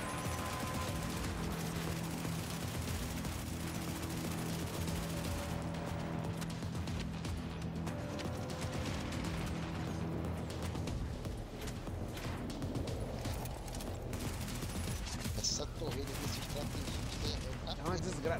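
Turret gunfire in the video game The Division rattles steadily through a dense, noisy game battle, with someone talking over the shooting throughout.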